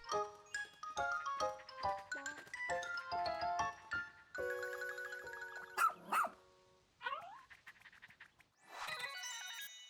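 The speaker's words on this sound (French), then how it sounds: "Jeune chien fidèle issu d'une longue lignée de chiens de l'espace au service des Shepherds." A rescue dog in the video game Pikmin 4 gives a run of short, bright electronic barks and yips mixed with chiming musical tones, loud and close with no talking.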